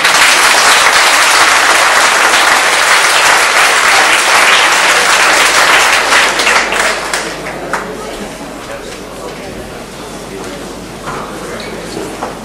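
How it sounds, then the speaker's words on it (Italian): Audience applause fills a summer band concert in a conference hall, loud dense clapping for about seven seconds before thinning out into scattered claps and murmuring crowd chatter. "Un applauso."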